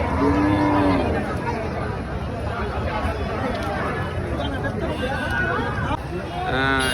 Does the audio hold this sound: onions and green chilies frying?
no